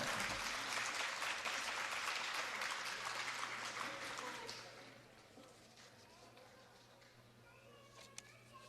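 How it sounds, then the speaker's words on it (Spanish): Audience applause for a Mexican folk dance performance of El Gusto and Son de la Negra by a youth group at a live cultural afternoon event, steady dense clapping for about four seconds that fades to a quieter room. "Fuertes palmas para ellos"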